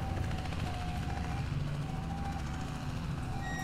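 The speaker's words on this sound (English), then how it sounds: "That is a helicopter." A helicopter flying overhead in the horror game Chordosis gives a steady, droning rumble with a faint rhythmic beat and a thin whine, constant and fairly loud throughout.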